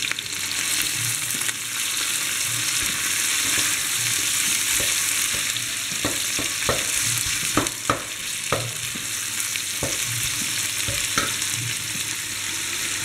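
Onion sizzles steadily in hot oil in a pan, a constant loud hiss with a series of sharp clicks and taps from a utensil scattered through the middle.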